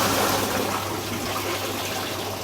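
Steady broadband rush of water pouring over a weir in a hydraulic flume, continuous and fairly even throughout with no voices.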